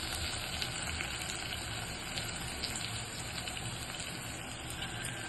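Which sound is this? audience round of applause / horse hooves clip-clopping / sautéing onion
sautéing onion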